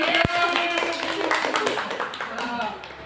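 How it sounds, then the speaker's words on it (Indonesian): An audience at a teaching performance assessment event claps together, a dense patter of hands with a sharp tap near the start, while speech carries over the top. "Kita beri tepuk tangan untuk"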